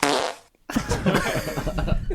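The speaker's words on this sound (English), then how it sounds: "Wet fart." A wet fart erupts after a brief silence, a long sputtering, bubbly blast carrying on for over a second, loud and close, with a short laugh or talk at the edges.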